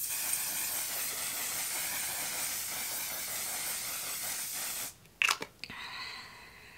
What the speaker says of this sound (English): now I'm just gonna put some of this mattifying setting spray